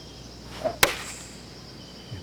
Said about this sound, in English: And something sounded off with that swing.